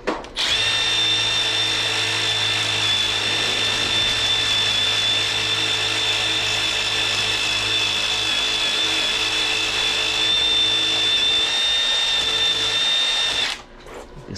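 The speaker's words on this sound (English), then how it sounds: "This is a wire brush wheel I'm gonna put on my drill." Wire brush wheel spun on a power drill to scrub gasket residue off a commercial LAARS boiler, producing a steady, loud, high-pitched whirring grind that runs continuously for about thirteen seconds before stopping.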